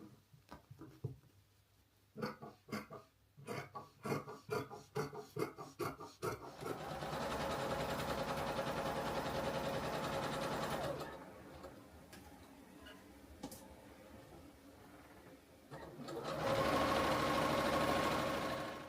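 A domestic sewing machine runs in a steady, continuous whir for long stretches, stopping briefly and then starting again, preceded by a series of sharp ticks and clicks as it is set up; fairly quiet and close, with no talking.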